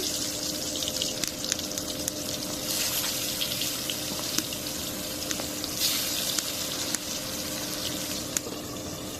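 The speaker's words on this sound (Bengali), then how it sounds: "এখন মাছটা ভেজে নিব তেল দিলাম মাছ দিয়ে দিলাম" Boal fish (wallago catfish) frying in hot oil in a home kitchen, giving a steady, even sizzle with faint crackles that holds at one level throughout.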